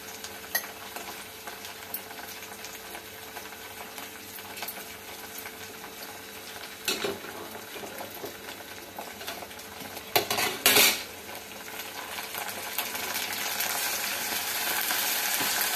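A spoon clinks and scrapes steadily as ginger garlic paste is stirred in a pan with curry leaves for egg curry, accompanied by a soft sizzle and a few louder knocks against the pan.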